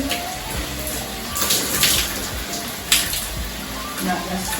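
Water runs and splashes steadily as shampoo is rinsed out of hair, a close, continuous wash with soft surges and a speaking voice over it.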